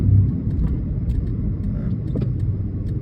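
Low road rumble from a car driving through New York City traffic continues steadily, with faint clicks and passing traffic noise at moderate volume and no talking.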